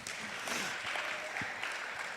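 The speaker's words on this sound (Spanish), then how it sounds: "Un aplauso a Catota" Faint, distant applause from a small group at a Spanish-language Bible faith lesson, a brief soft patter of hands with no voices over it.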